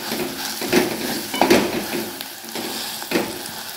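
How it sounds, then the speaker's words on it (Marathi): Mashed potato for aloo paratha sautés in a spiced masala in a pan, with soft sizzling and a few distinct scraping stir strokes at close range, with no talk. "2 मिनिटं फक्त त्या मसाल्यामध्ये परतून घ्यायचे बटाट्याला"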